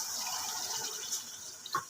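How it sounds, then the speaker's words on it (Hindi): Water pours into a hot pan of chicken and spice masala for karela filling, a brief steady splashing rush close by with a faint clink near the end. "थोड़ा सा पानी डालेंगे"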